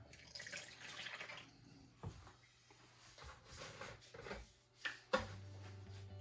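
Hot water pours and splashes steadily into a bowl for bannock dough for several seconds, broken up by a few sharp knocks and clinks near the end.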